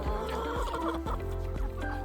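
Backyard hens cluck close by as they are fed pieces of cheese, with several soft, low clucks and murmurs overlapping in a busy, contented chatter.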